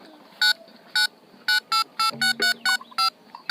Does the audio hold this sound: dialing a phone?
yes